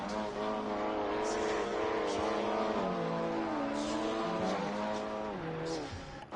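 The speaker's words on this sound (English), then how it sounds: "We do a little rev here." Race car engine revving in the Assetto Corsa Competizione racing game at the Suzuka circuit, a loud continuous high-pitched engine note that climbs and falls through gear changes and rev swells without pause.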